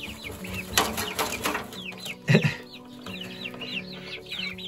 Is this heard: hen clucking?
yes